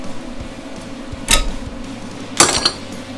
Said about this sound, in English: Okay, I think we can pull our clamps off now.